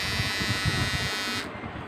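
Mi Trimmer 1C electric trimmer, its broken blade fixed, running with a steady close-up buzz that holds for about a second and a half, then drops suddenly as it shuts off.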